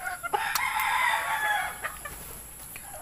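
A mayahin gamefowl rooster crows once, close and loud, in a long drawn-out call, followed by a few soft clucks.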